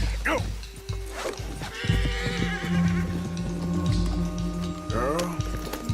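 Horses in Red Dead Redemption 2 whinny and neigh near the start and again toward the end, over steady hoof and movement noise with game ambience, while a rider's voice speaks at points.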